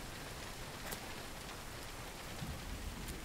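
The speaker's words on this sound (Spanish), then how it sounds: "Que ahora está lloviendo." Rain falls in the video game Road 96 as a soft, steady hiss that continues evenly throughout, fairly faint, with no talking.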